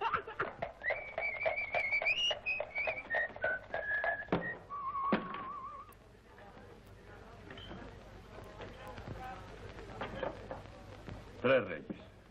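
A person whistles a short wavering tune near the start, then the whistling stops and quieter rustling and faint voices follow.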